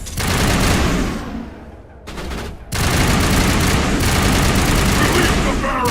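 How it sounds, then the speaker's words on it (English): Sustained heavy gunfire in the Mass Effect sci-fi shooter, including a sniper rifle, fills the clip loudly and continuously, breaking off briefly near the two-second mark before the barrage resumes. "Why is Rex using a sniper rifle?"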